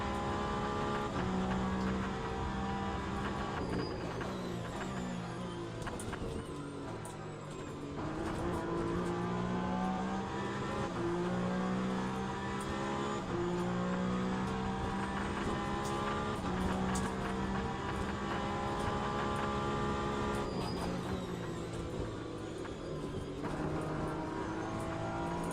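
A race car engine in the Le Mans Ultimate sim at Sebring drones steadily for the whole stretch, rising and falling as it revs through gear changes and corners, loud and continuous with no talk over it.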